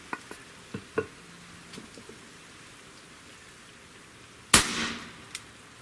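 A single sharp, loud crack comes from an AEA HP SS Max .35 caliber airgun pistol shot striking stone, with a short ringing decay after quiet outdoor background and faint taps.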